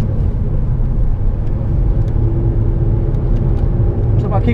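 A car engine on a race track trackday drones loud and steady after a downshift to third gear, a continuous close rumble with a faint rise near the end.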